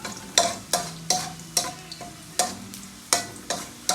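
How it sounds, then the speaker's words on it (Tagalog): Garlic browns in a frying pan under a gentle sizzle while a spatula scrapes and knocks against the pan in regular strokes, about eight sharp clacks in four seconds, close and alone. "i-ensure lang natin na nag-brown yung bawang natin"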